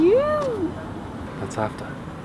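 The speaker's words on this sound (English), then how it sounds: "That's the cat." A single rising-and-falling cat meow opens, loud and close, followed by people talking over a faint background.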